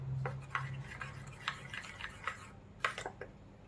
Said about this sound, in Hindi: लगभग 2 पिंच हमने इसमें ग्रीन फूड कलर को ले लिया है। और इसे मिक्स करके देखते हैं